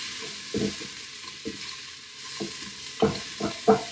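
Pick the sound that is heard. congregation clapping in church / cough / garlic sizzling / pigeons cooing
garlic sizzling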